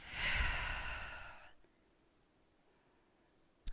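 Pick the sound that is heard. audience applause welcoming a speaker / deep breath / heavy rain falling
deep breath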